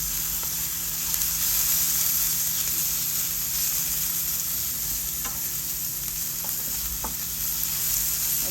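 Potatoes and fish fry in a little oil, giving a steady, close sizzling hiss that runs the whole time, with occasional sharp pops and spits.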